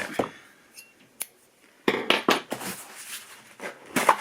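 Scissors snip and slice through packaging in a short run of crisp, close cuts with crinkling between them, no talking.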